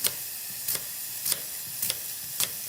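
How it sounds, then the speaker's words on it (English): Apple slices sizzle steadily in a hot stainless steel pan, a constant close hiss broken by a few regular scraping stirs. "You can hear the apple sizzling."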